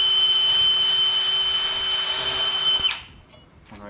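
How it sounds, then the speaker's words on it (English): A power drill whines steadily and loudly for about three seconds while drilling holes in wood, then stops, leaving a quiet room with a few small knocks. "So we'll drill these 2 holes out."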